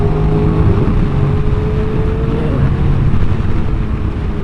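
A motorcycle accelerates on an open road during a group or solo ride, its engine droning steadily and loudly throughout, with a low rising whine and wind rush under it.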